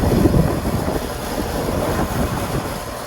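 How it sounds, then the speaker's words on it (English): A 2005 Carrier 38CKW 2.5-ton air conditioner with an open scroll compressor runs steadily nearby, a continuous low mechanical drone and whir with broadband fan hiss, even and unbroken. "As you may hear, it has the open scroll compressor."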